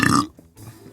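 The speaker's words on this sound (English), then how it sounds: "I burped quietly." A single short, quiet burp, preceded by a brief bit of talking.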